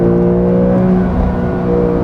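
High revs from a Porsche 911 Carrera S, 992 generation of 2020, held in manual mode without upshifting, a loud sustained engine whine with a steady tone climbing and holding close up.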